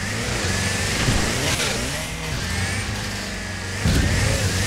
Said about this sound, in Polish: Znacznie lepiej, dziwnie brzmi teraz samochód